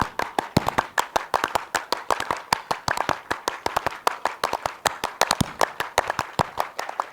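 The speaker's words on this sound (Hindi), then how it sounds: "जोरदार तालियां बजाएं हमारे किसानों के लिए" An audience claps loudly and steadily in a rhythmic beat, saluting farmers at a public gathering, with sharp, evenly spaced claps repeating throughout and no talking.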